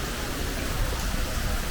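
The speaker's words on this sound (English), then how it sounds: "It's raining now. Definitely raining much harder now." Heavy rain pours down steadily outdoors at Disney's Animal Kingdom, a dense, even hiss with no pauses or voices.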